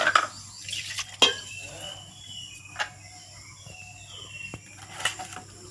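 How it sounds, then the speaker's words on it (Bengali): A ladle stirs a semolina and rice flour batter, making sparse, quiet scrapes and light knocks against the bowl over a soft background hum. "এই সুজি আর আতপ চালের গুঁড়ো যে বেটাটা আছে খুব ভালো করে হাতার সাহায্যে খুব ভালো করে মিশিয়ে নিব।"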